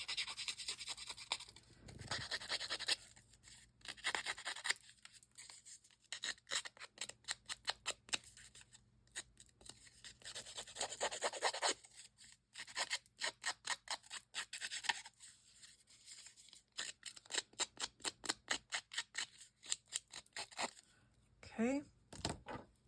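Rapid dry scraping and rasping strokes of scissors roughing up paper, coming in bursts of quick repeated scratches with short pauses between, close by and fairly loud.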